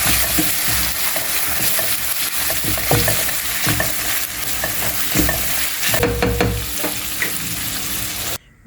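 A seafood pasta sauce of onion and calamari with a spoonful of soy sauce sizzles loudly in a pan while a utensil stirs and scrapes in repeated strokes, ending abruptly.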